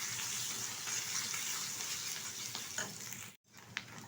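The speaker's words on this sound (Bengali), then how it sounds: "এদিকে কুচিয়ে রাখা নারকেলটা দিয়ে ভেজে নেব ভালো করে" Chopped coconut frying in a pan for khichuri, a soft steady sizzle with light stirring scrapes, quiet and close, briefly cut near the end.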